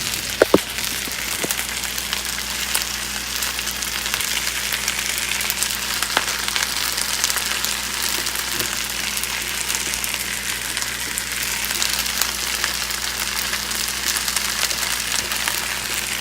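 Fried rice with peas and corn sizzles in a hot pan, a dense, even crackle and hiss that continues unbroken, close and fairly loud, with a few soft knocks near the start.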